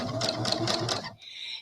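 A sewing machine stitches quilt blocks together with a rapid rhythmic clatter of about four pulses, close and clear, followed by a brief higher whine as the motor winds down.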